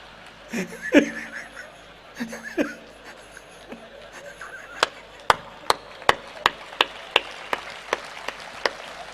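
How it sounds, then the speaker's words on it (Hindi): Sparse clapping from just two or three audience members, a run of sharp separate claps that grows more regular toward the end, mixed with some laughter and murmuring early on. "2-3 लोग ताली बजा रहे हैं"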